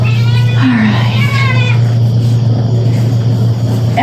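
Cats meow in a few short, rising calls over a steady low machine hum in a small dairy barn during milking, with faint background noise and no clear talk.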